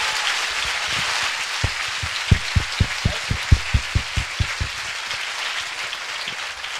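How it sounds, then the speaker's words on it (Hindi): A church congregation at a revival meeting in Chhattisgarh claps together, building from scattered claps into a steady rhythmic beat of about a dozen sharp, fairly close claps over a diffuse background of applause, with no talk. "क्या हम सब ताली बजा के यीशु को महिमा दे सकते?"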